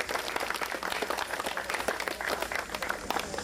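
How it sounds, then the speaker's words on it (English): A room of listeners claps for a colleague at a presentation, dense and fairly faint applause holding steady throughout with slight voice traces. "Give him a clap."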